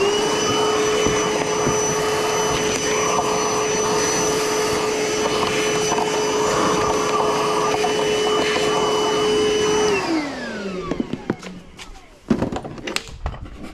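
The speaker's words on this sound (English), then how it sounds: "We're gonna vacuum that out though." A vacuum cleaner runs steadily and loudly while sucking debris out of a Mazda Miata's air filter housing, then its motor winds down and stops, leaving a few clunks and knocks.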